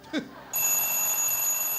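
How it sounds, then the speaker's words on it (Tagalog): A phone alarm goes off after a brief thump, sounding a steady, high electronic ring that keeps going without a break in a quiet indoor room. "Alarm mo yan, oh."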